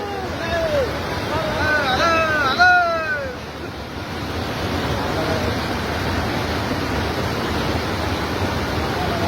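Floodwater pours over a bridge in a steady rushing wash, heard close, with wind buffeting the microphone and a few high squeaky chirps early on; no clear talk.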